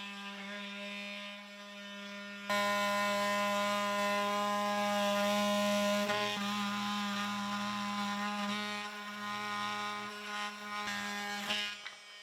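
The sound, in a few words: oscillating saw cutting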